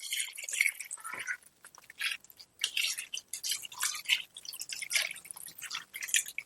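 Heated water splashes and drips into chicken biryani masala in a pot, a close, irregular run of wet spattering bursts with no voices.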